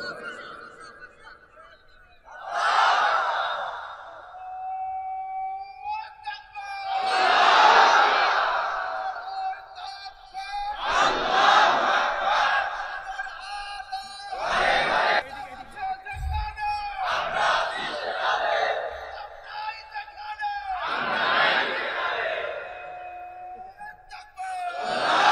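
Crowd at an Islamic sermon chanting slogans in repeated loud rising bursts, several waves of massed voices with short pauses between, mixed with a preacher's amplified speech.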